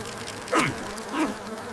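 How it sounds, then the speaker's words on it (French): A fly buzzing in an animated fairy tale about a little tailor, two loud close swooping passes a moment apart, each rising and falling as it flies by, with no talk. "Allez-vous-en, sale mouche!"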